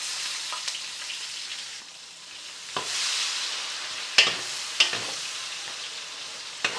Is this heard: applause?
no